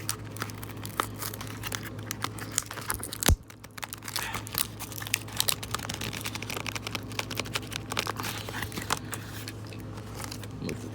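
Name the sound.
paper packaging crumpling during unboxing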